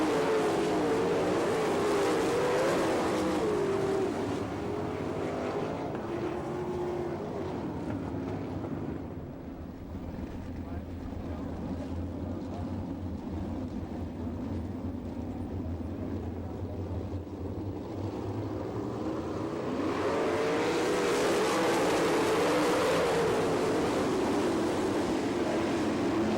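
Sprint cars race at Attica, Ohio, their engines roaring loudly past, fading to a distant drone midway and swelling back to a close, blaring pass with wind buffeting the microphone.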